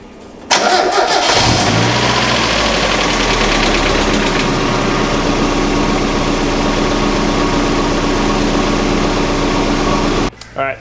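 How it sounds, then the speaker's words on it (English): A car engine starts after an oil change and settles into a steady, loud idle that runs close up for about ten seconds before cutting off abruptly. "now you've got to run the car a little bit just to let the oil filter through"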